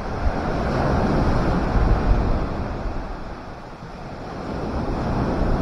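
Rough, stormy sea surf breaking on a beach during a gale, a steady loud wash of water mixed with heavy wind buffeting the microphone, swelling and easing slightly throughout with no talk.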